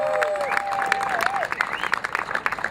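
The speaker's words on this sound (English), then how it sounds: "Give yourselves a big round of applause." Crowd applause at an off-road Gambler 500 rally awards ceremony in Illinois, moderate hand-clapping mixed with a few whistles and cheers, a crowd of participants celebrating together outdoors.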